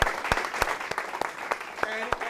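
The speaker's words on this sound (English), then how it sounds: "give them a whole huge round of applause" A live audience at a comedy venue gives a round of applause, with scattered sharp claps standing out over a crowd wash, and voices calling out and chattering over the top.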